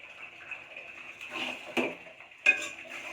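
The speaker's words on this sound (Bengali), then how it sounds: "তারপর এখানে দিয়ে দিব টমেটো কুচি" Chopped tomatoes going into a pan of spices over a low flame, with faint sizzling and a few sharp clinks of a metal spoon against the pan, quiet and close.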